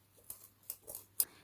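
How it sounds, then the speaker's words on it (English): Scissors snip through cardboard in four quick, crisp cuts, close up and fairly quiet against a near-silent background. "taking my scissors and just cutting along that."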